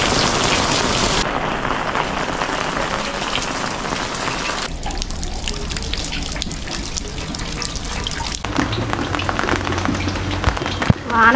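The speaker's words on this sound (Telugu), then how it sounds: "వాన పడుతుంది." Steady rain falls throughout, a dense close hiss of drops pattering on surfaces that shifts in texture partway through and closes with a few louder knocks and a brief sharp sound.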